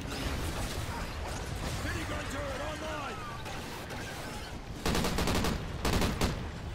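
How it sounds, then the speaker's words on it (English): A scorpion enemy in Call of Duty Ghosts Extinction fires at the player, sending dense, continuous bursts of shots and impacts. A louder clattering volley comes toward the end, and someone talks over the action. "Bloody scorpion shooting his stuff at me again"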